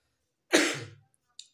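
A single harsh cough from someone with a cold bursts out close to the mic, followed by a brief low vocal tail and a small sharp sound after a pause, with quiet all around.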